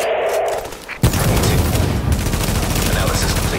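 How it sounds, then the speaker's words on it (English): Small arms gunfire in the shooter game The Division, a sudden burst of rapid loud shots after a brief quieter moment, continuing as dense crackling fire with a voice partly audible beneath. "Taking small arms fire!"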